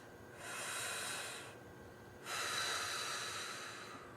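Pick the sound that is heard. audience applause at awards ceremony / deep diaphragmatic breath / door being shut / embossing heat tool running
deep diaphragmatic breath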